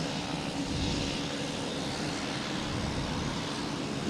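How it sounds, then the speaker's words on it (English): A Cape Air propeller plane arriving from Nantucket lands at Boston Logan Airport, giving a steady, broadband engine drone at moderate distance that holds evenly throughout. "Cape Air just landed coming in from Nantucket."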